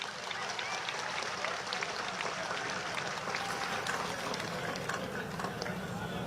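A crowd applauding a team at a public gathering, steady dense clapping that holds evenly throughout, moderately distant with a roomy wash and a voice faintly underneath.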